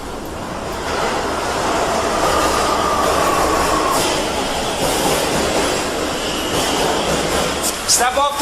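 Subway train rumbling steadily throughout, with a brief wheel squeal in the middle and clattering near the end, loud and close, with faint voices in the background.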